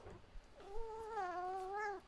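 A house cat gives a single drawn-out, wavering meow lasting over a second, close and clear, with a faint soft sound just before it and no talking.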